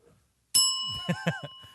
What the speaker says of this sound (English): Hey, but hit the bell.